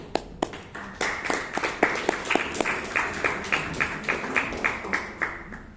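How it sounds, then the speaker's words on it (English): A round of clapping from a small group at a Toastmasters meeting, steady and close, with sharp individual claps standing out at the start. "a bigger round of applause for our table topic master for the day"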